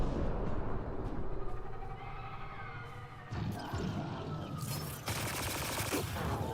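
Gunfire in the sci-fi shooter Mass Effect: Andromeda, a steady rattle of rapid automatic shots over a low rumble, intensifying into sharper, denser bursts toward the end.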